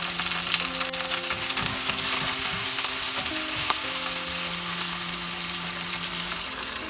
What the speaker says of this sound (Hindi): 2-3 मिनट के लिए हमें सौटे करना है जब तक टमाटर थोड़ा सॉफ्ट ना हो जाए।